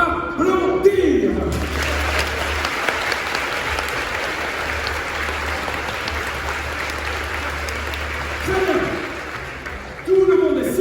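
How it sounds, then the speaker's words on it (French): A large crowd applauds during a rehearsal before a Gauls versus Romans show, dense loud clapping filling most of the span, with a voice speaking at the start and end. "je veux voir tout le monde applaudir"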